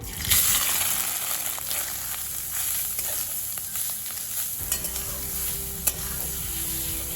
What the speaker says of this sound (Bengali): এবার আমার কুড়িয়ে রাখা নারকেল, সেই নারকেলটা এর মধ্যে দিয়ে দেবো।